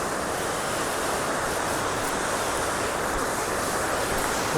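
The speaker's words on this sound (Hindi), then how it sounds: "और पानी का फ्लो चेक करो आप इस टाइम कितना ज़्यादा है" A mountain river in the Kinnaur Kailash trek area rushes under a footbridge, a loud, dense, unbroken roar of flowing water close by.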